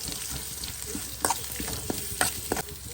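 Onions fry in oil with curry leaves, making a close, crackling sizzle. Intermittent stirring clicks and scrapes from a spoon in the pan sound over it, and no one talks.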